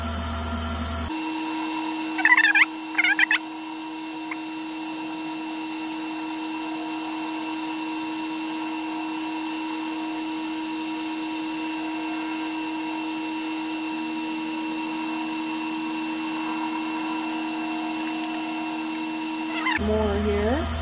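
A wooden teardrop box spins on a woodturning lathe at about 600 RPM during polishing, giving a steady, continuous motor hum with a faint high whine throughout, a couple of brief scraping bursts near the start.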